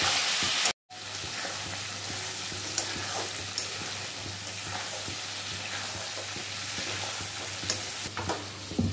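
Chicken masala cooking in a pan over lowered heat, a constant close sizzle with scattered stirring scrapes and faint crackles, after a brief cut near the start.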